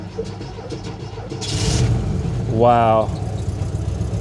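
A Shelby Cobra 427 at a Portland, Oregon salvage auction yard cranks briefly and fires up, settling into a steady, close idle as a voice exclaims over it.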